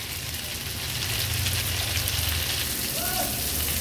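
Tomatoes frying in oil over a medium flame, a soft, steady crackling sizzle that continues evenly throughout with a low hum beneath it, moderately close and without any speech.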